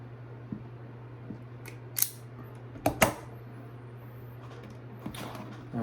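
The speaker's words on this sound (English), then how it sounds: "grab some wire and cut it and strip it" Wire being cut and stripped with hand tools: a few sharp, brief snips and clicks near the middle, clear against a steady low hum and otherwise quiet surroundings.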